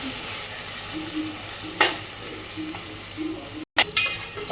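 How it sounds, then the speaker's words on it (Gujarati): Eggplant that was boiled first now fries in a pan of hot oil for baingan bharta, giving a steady close sizzle with stirring scrapes and a couple of sharper bursts. "એને હવે આમાં નાખી દઈશું તેલમાં થોડીક વાર ફ્રાય થવા દઈશું"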